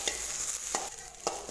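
Chopped ginger and mint sauté in hot oil for tomato chutney: a soft, steady sizzle broken by three sharp spatula scrapes and stirs.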